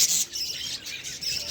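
Pet birds calling at a bird farm in Nakhalpara, with doves and pigeons kept nearby; a busy layer of high squawks and chirps runs continuously and fairly close, with no talk.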